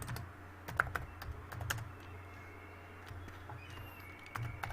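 Computer keyboard typing while writing code, scattered clicking keystrokes in short runs with pauses, close and fairly quiet over a low hum.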